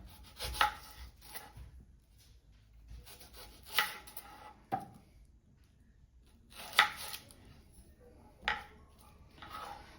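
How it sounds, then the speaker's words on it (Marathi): Onions chopped with a knife on a board in a home kitchen, several short bursts of quick cutting strokes separated by quiet pauses, close and moderately loud. "तर आता आपण कांदे कापून घेऊया"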